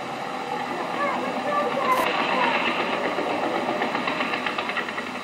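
Veteran motorcycles, including early Triumphs such as a 1907 machine, pulling away from the start line of the Pioneer Run to Brighton, a steady rattling engine clatter that stays loud and continuous throughout.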